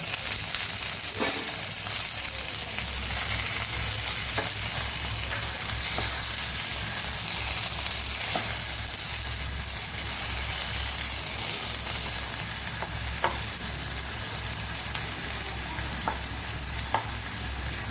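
Garlic cloves sauté in hot oil in a pan for tomato chutney over a medium flame, giving a steady close sizzle with faint scattered pops and occasional stirring scrapes.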